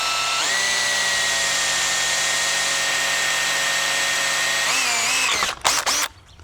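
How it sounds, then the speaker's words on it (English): Step drill boring into aluminium antenna extrusion: a loud, steady high-pitched whine of the drill motor running continuously, shifting pitch near the end before winding down with a few rough bursts. "So we'll get a little step drill."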